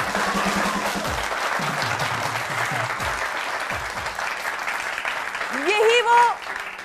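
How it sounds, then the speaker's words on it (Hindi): A crowd applauds a band at a live show, steady dense clapping throughout, with a voice speaking over it near the start and a brief whistle or cheer rising near the end. "तालियां मेरे बैंड के लिए"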